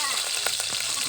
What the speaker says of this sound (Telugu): పచ్చిమిరపకాయలు వేయించాలి.